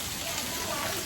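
Monsoon rain falling at a farmhouse, a continuous, even hiss of steady rainfall that stays at one level throughout the short moment.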